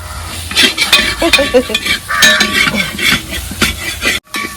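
Pork frying with meat masala spice powders in a pan, stirred hard with a metal spoon: loud close scraping and clattering strokes over an ongoing sizzle, ending in a sudden brief drop to near silence.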